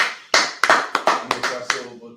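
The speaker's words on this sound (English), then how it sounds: "Clap it up." A group claps in unison as a salute to an officer at the end of a class, about eight sharp, evenly spaced claps in quick succession.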